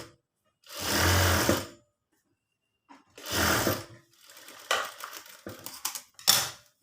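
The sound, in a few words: sewing machine stitching embroidered blouse neckline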